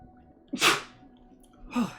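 A person sneezes twice indoors, a sharp burst followed by a second, softer sneeze about a second later, close and loud with no talking.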